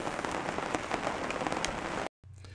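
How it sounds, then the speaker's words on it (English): A light rain shower patters steadily on tent canvas at an outdoor rendezvous camp, a close, dense drumming of drops that cuts off abruptly near the end. "I don't know if you can hear it hitting the canvas, but we're having a little shower"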